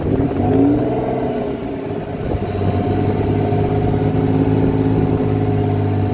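Hot rod car built by de Souza in Kenya, its engine revving as the drive begins, a steady, loud mid-pitched drone that rises briefly at the start and then holds a constant throb close by, with no talking.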